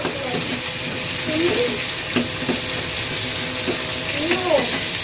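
Vegetables frying in hot oil for a Manchurian gravy in a home kitchen. A steady, close sizzle runs throughout, with faint talk underneath.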